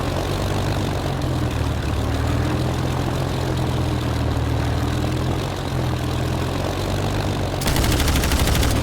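Rapid cannon fire from a 20 mm cannon in a wartime Shanghai-Nanking combat video game, loud and continuous over a steady aircraft engine drone, with a denser burst of shots near the end.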